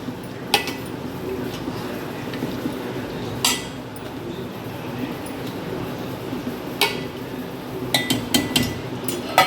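Spoon scraping and clinking against a cooking pot while stirring tomato curry, a few sharp metallic knocks scattered over a steady sizzle and hiss, with someone talking throughout.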